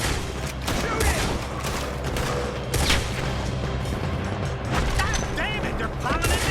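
Rapid gunfire in a Red Dead Redemption shootout during a robbery, dense bursts of shots and booms crackling steadily throughout, with shouted voices mixed in.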